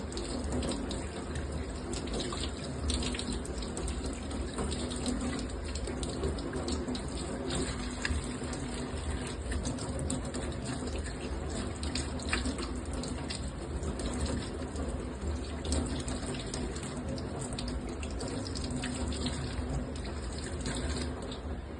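Running tap water streams steadily into a sink while fish is cleaned under it, a continuous close gush with faint splashing and handling noises throughout, no talking.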